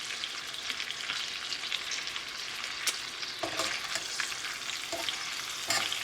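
Bacon-wrapped, spinach-stuffed chicken breast sizzles in a pan with a steady, quiet frying hiss, punctuated by a few sharper pops and crackles.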